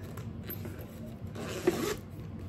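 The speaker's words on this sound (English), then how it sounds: "Has a good zipper on it." A zipper on a small bag is pulled in short rasping strokes close up, with a brief burst of louder zipping near the end and light handling noise throughout, no talking.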